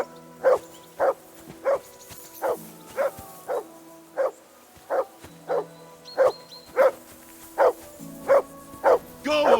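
A dog in Kingdom Come: Deliverance II barks in a steady run of about fifteen sharp, evenly spaced barks, close and loud, over a faint game background.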